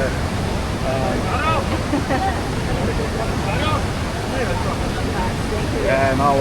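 Tegenungan Waterfall in Bali roars steadily and loudly close by, a dense continuous rush of falling water with people's voices faintly heard talking beneath it.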